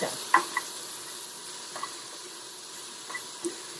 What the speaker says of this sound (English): Just make sure that you don't burn it. Just stand right there and dry roast it.